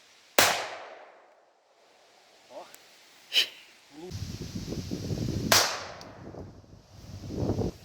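A gun is fired outdoors to empty it near wild ponds on a former Soviet military site. Three sharp, loud cracks are spaced a couple of seconds apart, with rustling and quieter sounds between them.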